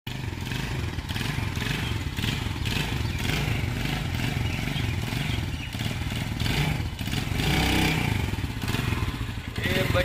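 A small motorcycle engine runs steadily nearby with a constant mid-pitched putter and some rattling clatter, holding an even level with faint voices in the background.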